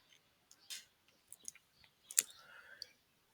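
A few sharp computer mouse clicks, quiet and close, spaced irregularly with near silence between them and no voices.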